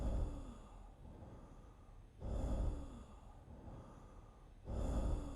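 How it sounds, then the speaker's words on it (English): A sickly patient breathes heavily in the video game Quarantine Zone, with slow raspy inhales and exhales repeating in a steady cycle, faint and close, with no talking. "I think that's general sickly breathing."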